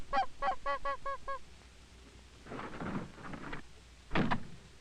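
A flock of Canada geese honks in a quick run of calls, then a stretch of rustling noise and one more loud honking burst near the end.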